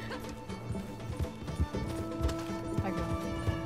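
Horse hooves clip-clopping in a video game, a steady run of close, distinct hoofbeats over ambient game music and sound.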